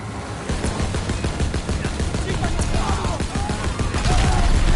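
Machine gun fire in Call of Duty WWII roars as a loud, dense, continuous burst of rapid shots that lasts the whole stretch without letting up.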